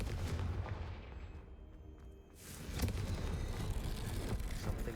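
A Confringo fire spell blast from the Hogwarts Legacy video game: a loud, dense explosive rumble that dips briefly, then swells again with a crackling burst.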